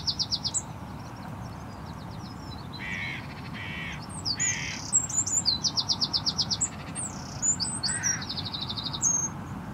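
Hooded crows caw in repeated harsh bursts on a late morning, loud and fairly close, with quieter chirps between calls over a steady outdoor hum.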